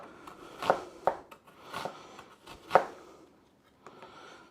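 Onions being chopped on a cutting board while cooking cauliflower cheese: a handful of sharp, separated knife strikes spread irregularly over a few seconds, fairly quiet and close, with no talking.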